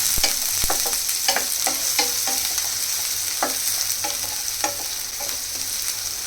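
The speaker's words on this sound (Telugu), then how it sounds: "ఇవి కొంచెం గోల్డెన్ బ్రౌన్ కలర్ వరకు ఫ్రై అవ్వాలి" Green chillies frying in ghee toward golden brown, a dense crackling sizzle with frequent small pops and spatters, steady and close with no voices.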